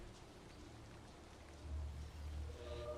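Rain falls in the Valheim video game, a quiet, steady patter on a roof that swells slightly toward the end, with a low rumble underneath.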